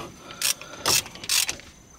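A hand ratchet tightens the brake bracket bolts on a Trailblazer in three quick, close rattling bursts with short pauses between them and no talking.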